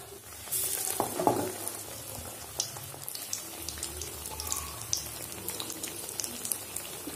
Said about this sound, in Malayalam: ഇതേ ബാറ്റിൽ തന്നെ ഉരുളക്കിഴങ്ങ് പീസ് എടുത്തിട്ട് രണ്ട് സൈഡും നന്നായിട്ട് മാവിൽ ഡിപ്പ് ചെയ്ത് കൊടുക്കുക. അതിനുശേഷം എണ്ണയിലേക്ക് ചേർത്ത് കൊടുക്കാം.